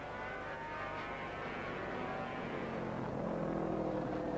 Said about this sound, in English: There you see the 27 bikes twisting and turning through the chicane.